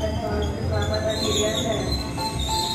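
A commuter train at Tigaraksa station in Indonesia, bound for Rangkas Bitung, rumbles steadily and loudly with a low continuous roar and some higher metallic tones, while voices carry faintly in the background.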